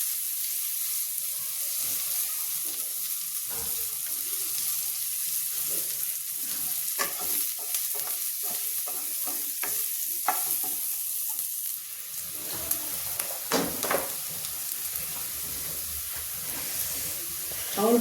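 Onion and garlic fry in a pan, a continuous close sizzle and hiss with intermittent stirring clicks and scrapes, growing busier and more crackly in the later part.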